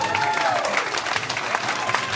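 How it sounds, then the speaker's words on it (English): Applause and crowd noise fill a Republican Party headquarters event on Saipan, CNMI, a steady wash of clapping from a room full of people, with some voices mixed in. "How about a round of applause?"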